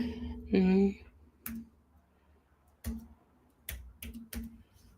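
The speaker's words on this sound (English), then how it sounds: "Why is it not wanting to type? Oh, I'm on the wrong keyboard." Scattered bursts of computer keyboard typing, a few quick clusters of clicks separated by pauses, close and moderately loud after a short vocal sound at the start.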